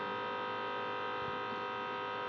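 A 135W electric fan running on a modified sine wave inverter gives off a steady, even electrical buzz with strong harmonic hum, continuous and close, with no talking.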